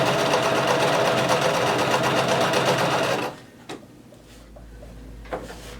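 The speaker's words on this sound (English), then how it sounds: "lower your needle, begin sewing, back stitch, and keep sewing all the way up until you get to that bottom notch in the pocket" A sewing machine stitches up along a shirt pocket toward the bottom notch, a loud close rapid whir for about three seconds, then stopping, followed by quieter clicks and handling knocks.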